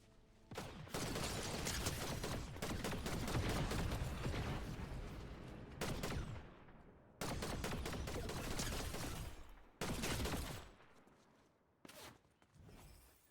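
Rapid gunfire in a video game, dense bursts of shots lasting several seconds each with short gaps between them, loud and harsh, then fading at the end.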